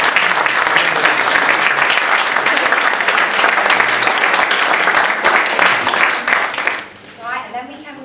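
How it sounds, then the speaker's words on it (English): Sustained applause from an audience at a national prep school art competition prize ceremony, dense clapping filling the room for several seconds before fading out, with a few voices faintly underneath. "if we give her a round of applause"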